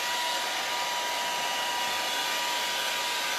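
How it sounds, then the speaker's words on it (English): A blow dryer runs steadily and loudly for the whole stretch, a dense even whoosh with a faint whine and no break, heard close with no talking. "I'm going to turn this blow dryer on"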